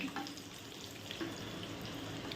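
Brinjal frying in oil in a covered pan, a close, steady crackling sizzle with small pops scattered through, continuous and moderately quiet with no voices.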